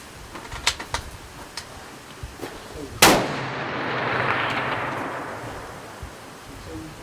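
Gunshots at a shooting competition: a few light, sharp reports early on, then one loud close blast at about three seconds whose echo trails off slowly, with quieter scattered pops afterwards.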